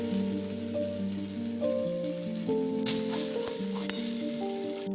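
Crackling sizzle of a spiced green pea filling frying in a pan, continuous beneath steady background music, with a few sharper spatters partway through.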